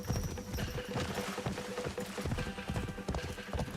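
Rhythmic clip-clop of horse hooves from Assassin's Creed Shadows, a steady galloping beat that runs throughout, dense and fairly loud, with brief whinny-like touches and no talk.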